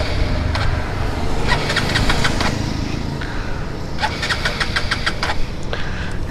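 A Hero Xpulse 200 4V motorcycle engine is cranked in several short bursts over steady background noise, trying to start without settling into a clear idle.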